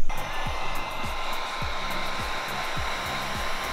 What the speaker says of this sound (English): So, now we take the heat gun and hopefully it starts wrinkling.